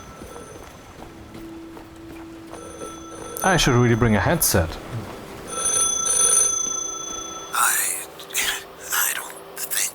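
Telephone ringing in the video game The Last Caretaker, repeated electronic ring bursts over a humming backdrop, interrupted by someone speaking partway through.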